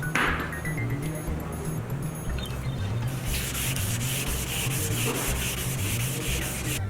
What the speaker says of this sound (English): I'm wet sanding it to get ready for paint